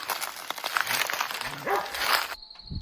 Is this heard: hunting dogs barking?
yes